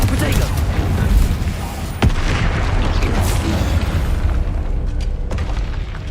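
Spell blasts in the Hogwarts Legacy video game, a dense run of booming explosions and bursts with rumbling low end and sharp cracks, while a character shouts incantations over the combat.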